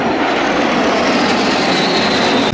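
A loud airplane engine roars steadily overhead at an airshow during a go-around, a dense broadband drone with no voices.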